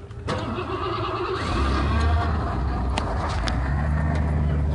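A 7.3 Powerstroke diesel pickup truck cranks briefly and catches on a cold start, then settles into a steady, loud idle rumble, close by with no talk over it.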